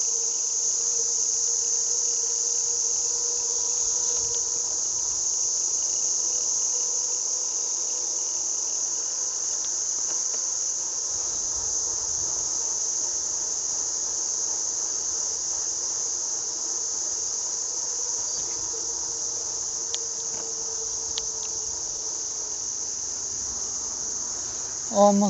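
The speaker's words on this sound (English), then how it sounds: "crickets are again so loud" Loud crickets chirp in a dense, unbroken high-pitched drone that holds steady throughout, somewhere in Hokkaido, Japan.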